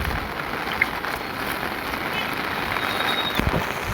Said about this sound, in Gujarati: વરસાદ છે ચાલુ અને આપણે જો જવાનું છે વાડીએ ચાલુ વરસાદે.